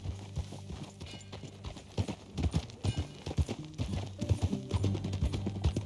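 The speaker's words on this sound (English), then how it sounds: "That new horse?" Horse hooves clip-clop steadily in the video game Red Dead Redemption 2, a close, rhythmic trot of regular thuds with faint game ambience underneath.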